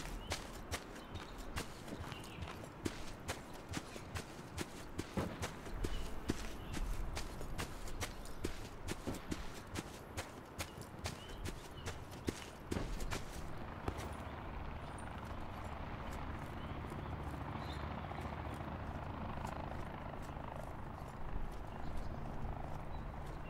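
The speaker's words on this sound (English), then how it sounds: "keep in mind of the sounds or the footsteps you guys hear while I'm crouching or proning" Crouched footsteps in Black Ops 4 Blackout with the Skulker perk make rapid, even, close thuds that run for about thirteen seconds and then give way to a quieter ambient rumble.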